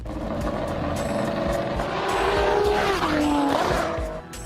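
A Ferrari 599XX supercar with a modified 6-liter V12 engine roars past loudly, its pitch climbing as it revs, with tire noise underneath.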